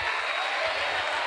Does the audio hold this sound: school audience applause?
yes